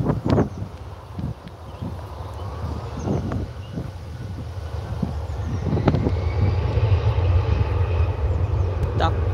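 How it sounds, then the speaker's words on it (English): An EasyJet airliner takes off for Tenerife from Liverpool Airport, its engines giving a steady, rising buzzing roar heard from a distance, with wind noise and occasional low thumps throughout. "Here we go, we're on the roll now, this EasyJet off to Tenerife."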